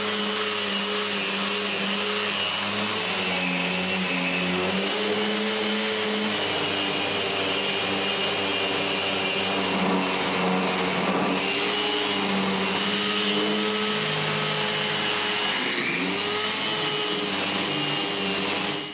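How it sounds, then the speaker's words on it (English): A power sander works over the glued exterior of a wooden kitchen recycling bin, giving a continuous whirring whine with a slight, shifting pitch throughout, steady and close with no talk. "When the glue is dry, I can sand the exterior of the bin."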